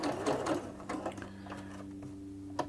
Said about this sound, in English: if I sew down here and I hold the back tack while I'm sewing